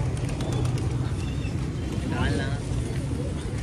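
Pigeons coo softly amid steady background noise at a bird market in Multan, with people talking over them.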